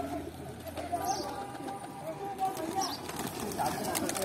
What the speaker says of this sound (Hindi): भाई नया कबूतर है ये